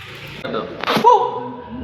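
A single sharp sneeze bursts out in the middle, set among background voices and outdoor noise.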